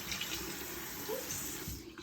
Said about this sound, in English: shut off the water